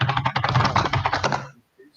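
Rapid computer keyboard typing clatters up close for about a second and a half during a gaming chat, then stops abruptly into near silence.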